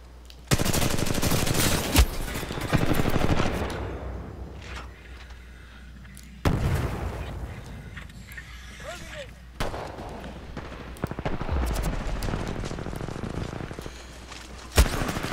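Assault rifle fire in Titanfall 2, with rapid close bursts of shots in several clusters, sharp cracks and booming impacts separated by quieter gaps, with someone talking briefly between bursts.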